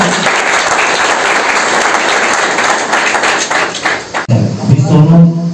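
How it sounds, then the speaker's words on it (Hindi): Loud, dense welcoming applause from a gathered crowd at a youth training event, steady for about four seconds before cutting off abruptly, followed by a brief murmur of voices. "एक बार जोरदार ताली से स्वागत करेंगे।"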